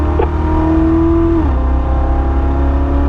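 A car at full throttle holds a high, steady engine note, then shifts up into fifth gear and the pitch drops before the engine pulls on strongly and close, with no voices.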